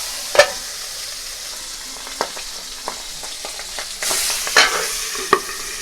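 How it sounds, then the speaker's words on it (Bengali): Pabda fish being fried in hot oil in a wok for a mustard dish: a soft, steady sizzle runs throughout, with scattered sharp pops and a louder surge of crackling spitting near the end. "এই দেখো কড়াইয়ে তেলটা গরম হয়ে গেছে। এবার আমি দিয়ে দিচ্ছি মাছগুলোকে।"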